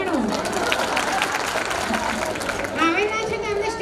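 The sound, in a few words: audience clapping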